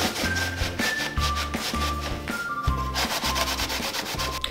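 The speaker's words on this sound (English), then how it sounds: "use Minwax stain and dark walnut and our lint-free rag, and I'm just going to go ahead and stain my basket" Dark walnut Minwax stain being rubbed by hand onto an IKEA basket with a lint-free rag, a close, continuous rhythmic scrubbing that pulses in even strokes, with no one talking.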